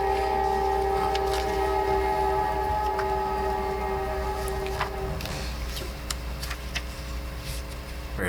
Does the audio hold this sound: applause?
no